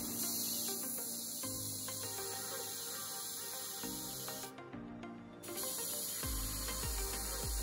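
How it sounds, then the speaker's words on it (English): Steady hissing spray of coloured cocoa butter into a chocolate mould runs through most of the stretch, pausing briefly near the end, over a constant background hum with no talking. "Here I'm spraying a lot of color inside the mold"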